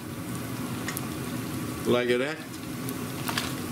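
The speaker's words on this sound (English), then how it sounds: "Into the hot oil, the frying pan." Chicken pieces sizzle steadily in hot oil in a frying pan, a continuous crackling hiss that runs under a voice talking nearby.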